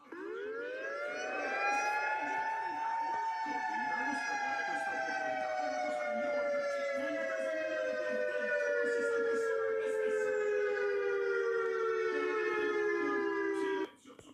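An emergency alert system alarm siren wails steadily for about fourteen seconds, rising at first and then slowly falling in pitch, rich in harmonics, then cutting off abruptly.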